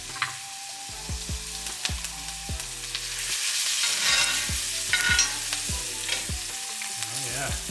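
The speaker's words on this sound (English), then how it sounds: "Get the butter to melt." Butter melts and sizzles in a pan beside a rack of lamb, a soft steady frying hiss broken by repeated sharp clinks and scrapes of a utensil against the pan.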